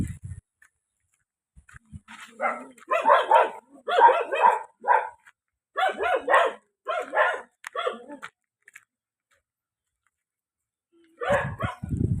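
Dogs bark in a run of sharp, repeated bursts, fairly close, near rice fields, pausing briefly before another short round of barking near the end.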